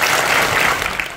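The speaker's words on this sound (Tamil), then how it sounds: "ஒரு தடவை கைத்தட்டு" Children in a school classroom clap together in a dense, steady burst of applause that fills the whole moment and fades only slightly at the end.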